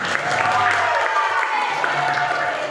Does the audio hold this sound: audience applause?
yes